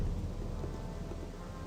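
Rain falling in Gothic 2, a continuous broadband hiss over a deep rumbling bed, even in level with no distinct drops standing out.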